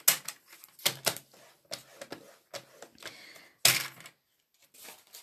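A paper trimmer scores a sheet of paper with a series of short, sharp scraping clicks, irregular and close, one stroke louder than the rest, in a quiet room.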